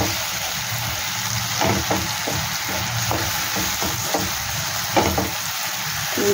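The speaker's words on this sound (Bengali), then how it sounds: "এটাকে একটু কষাই মশলাটাকে" Spice masala paste with salt frying and being stirred in oil in a pan while cooking mutton liver kosha, a continuous sizzle with intermittent scraping stir strokes, close and steady, no voices.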